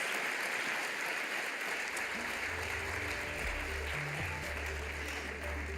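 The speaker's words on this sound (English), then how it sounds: "Please give them another round of applause." Sustained audience applause at a women's health keynote event, a steady wash of many hands clapping at moderate distance, with a low hum and a voice briefly entering near the end.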